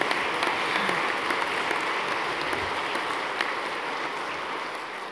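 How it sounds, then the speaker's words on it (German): Crowd applause at a Swiss music association's welcome event, sustained dense clapping from a large audience holding steady for several seconds without talk. "Ja, Sie haben einen Applaus verdient."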